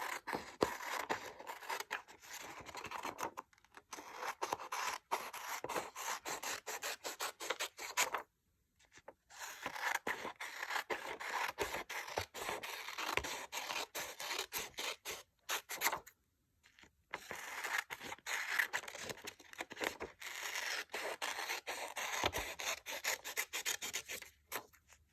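Scissors cutting paper along straight practice lines, a steady close run of snipping and rustling strokes in short repeated bursts, broken by two brief pauses, with no talking.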